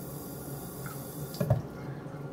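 Water poured onto a waterproof Adidas Ultra Boost shoe gives a brief, faint splash and patter lasting about a second over quiet room noise.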